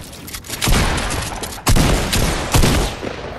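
Sharp SMG bursts erupt in a Fortnite match, three loud volleys of rapid fire separated by brief lulls, close and punchy with no talk over them.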